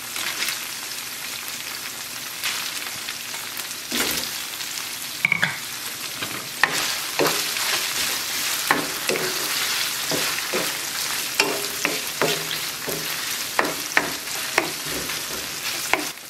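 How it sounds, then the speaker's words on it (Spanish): Potatoes and ground beef fry in a pan, giving a loud, steady sizzle throughout with occasional stirring scrapes and pops. "en este momento le voy a poner las papas para que se alcancen a dorar."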